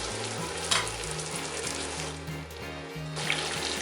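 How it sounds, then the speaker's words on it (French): Pork hocks browning in melted butter in a large frying pan, a loud, continuous close sizzle with crackling spatters, steady throughout with a low background hum. "dans une grande poêle, j'ajoute le beurre que je vais faire fondre et j'ajoute les jarrets de porc que je vais faire revenir"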